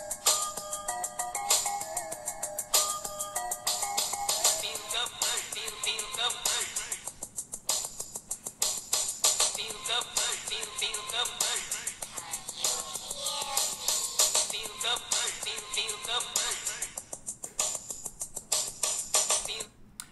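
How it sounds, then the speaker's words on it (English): A music track plays from a YouTube video through the built-in loudspeaker of an HTC U12 Plus smartphone. It is continuous and moderately loud for about twenty seconds, with a bright, somewhat thin tone and no talking. "Let's say you're watching a YouTube video on your phone."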